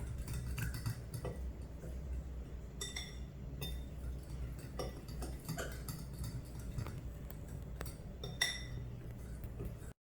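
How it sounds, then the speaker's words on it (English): A fork or whisk mixing dry sugar cookie ingredients in a bowl, a quiet, steady run of light clinks and taps against the bowl with a few sharper strikes, under a low background hum. "Then you can just use a fork or a whisk, your choice, and you're just going to mix all of these dry ingredients together."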